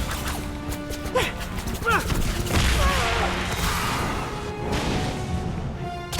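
A Confringo fire spell cast in the Harry Potter Deathly Hallows video game, heard as crashing blasts and impacts layered over game music and effects, with a voice talking at moderate level throughout.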